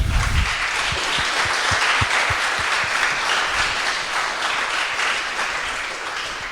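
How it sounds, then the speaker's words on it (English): An audience at a startup demo day claps in a sustained burst of applause, dense and even, tapering slightly toward the end with no voices over it. "know that a lot of the applause today is actually for you"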